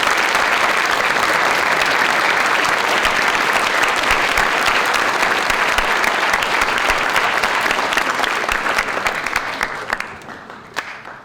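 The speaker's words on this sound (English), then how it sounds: "let's take a moment to thank them with our applause" A crowd at a high school Veterans Day ceremony gives veterans loud, dense, sustained applause that continues evenly before thinning out and fading near the end.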